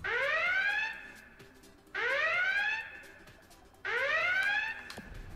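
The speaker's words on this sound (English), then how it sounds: "This last one here, Spaceship Alarm," Spaceship Alarm goal horn from the hockey video game NHL 20, a loud electronic warbling alarm with a rising swept tone, sounding three times in regular bursts about two seconds apart.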